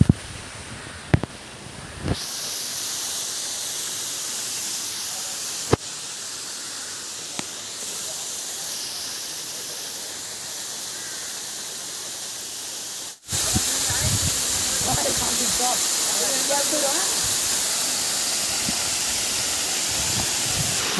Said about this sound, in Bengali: আমরা শতধারা ঝর্ণায় চলে এসে এই সেই শতধারা ঝর্ণা